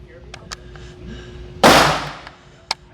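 A single loud .223 gunshot from an AR pistol fired outdoors, a sharp crack with a ringing decay, after faint clicks and ahead of a smaller pop.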